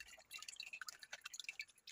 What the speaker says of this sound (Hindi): हमने सारा जूस छान लिया।